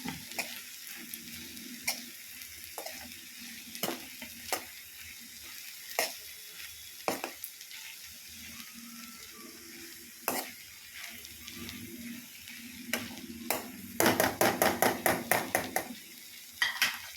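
Mixed vegetable thoran stirred in a pan with pepper powder, a low sizzle under sharp intermittent spoon scrapes and clacks, ending in a quick burst of rapid taps against the pan, close and without talk.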